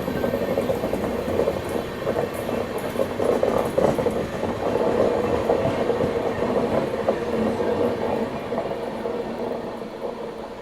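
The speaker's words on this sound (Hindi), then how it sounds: "सामने से कोई ट्रेन आई है ज़बरदस्त रफ्तार में।" An oncoming train rushes past at high speed alongside the moving Goa Rajdhani, a loud, continuous rolling roar with rapid clickety-clack of wheels over rail joints lasting throughout.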